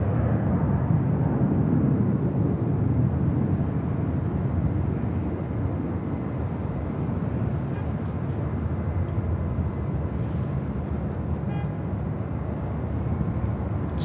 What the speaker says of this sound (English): It's a 747-400 freighter. We'll be rolling down to 25 left on the south side.